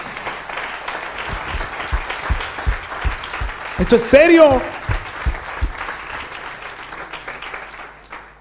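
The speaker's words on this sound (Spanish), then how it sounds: "Denle un aplauso al Señor." A church congregation claps and cheers for the Lord during a Spanish-language sermon, a rising burst of applause swelling briefly in the middle while the preacher keeps talking.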